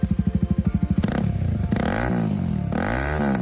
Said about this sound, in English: As you hear it, this engine only has one cylinder.